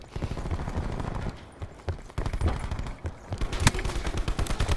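Gunfire in Call of Duty Black Ops 4 multiplayer, with sharp shots and short bursts scattered through the whole stretch, fairly close and moderately loud, one especially prominent crack near the end.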